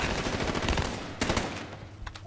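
Automatic gunfire in Call of Duty: Black Ops 3, a rapid burst of sharp shots followed by a second short volley and a few scattered bangs, moderately loud in the game mix.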